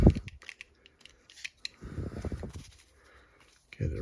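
Scissors snip through material in small, quick cuts, a few crisp clicks close to the microphone between bursts of someone talking.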